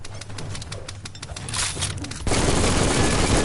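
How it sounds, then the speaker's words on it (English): Rapid bursts of gunfire in the video game Biomutant crackle in quick succession, then give way to a dense, steady wash of noise that grows louder. "Bullets everywhere."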